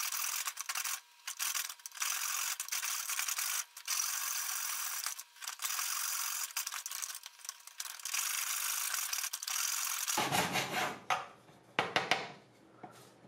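Pallet wood ribs for a lamp being cut with simple hand tools: rough, rasping strokes repeat in a steady rhythm with brief pauses, close and fairly quiet, ending in a few scattered knocks and scrapes.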